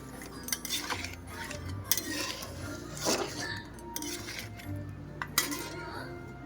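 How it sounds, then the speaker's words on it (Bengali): Fish being stirred in a cooking pot, with metal utensil scrapes and clinks against the pan repeating irregularly throughout, close and moderately loud over a low background hum. "আবার ভালো করে নেড়ে চেড়ে নেব।"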